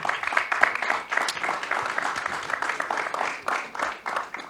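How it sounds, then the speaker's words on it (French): Audience applause for the speaker Gilles at a French lecture, a dense, steady wash of many hands clapping at moderate loudness, continuing without pause. "je pense qu'on peut le remercier en l'applaudissant"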